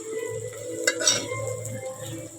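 Water is poured into masala frying in oil, bringing a sharp burst of sizzling around the middle over a low simmer, with light clinks of a utensil against the pan.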